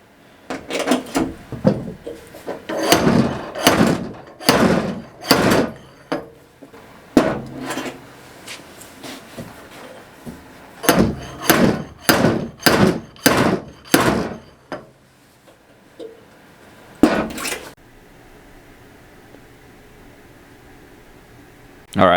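A stud puller yanks dents out of a VW Beetle body panel during restoration, sharp metallic snaps and clunks in quick irregular bursts, loud and close, with short pauses between groups of pulls and a quiet gap near the end.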